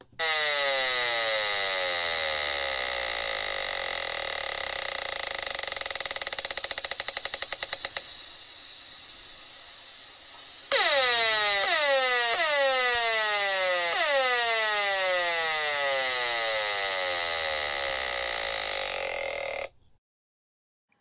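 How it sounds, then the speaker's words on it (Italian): An electronic alarm-like tone stands in for radiation from smart meters: a loud, continuous, piercing stack of sustained tones, briefly dropping out mid-way, then returning with repeated sweeping pulses before it cuts off. "Se potessimo ascoltare queste radiazioni, questo è il suono che si sentirebbe."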